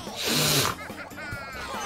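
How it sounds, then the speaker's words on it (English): During a Mario Kart 8 team game, a person snorts: a short, sharp nasal burst up close, followed by game sounds and murmured background noise. "Did you just snort?"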